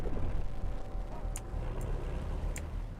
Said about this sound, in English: Oh, is this just an engine?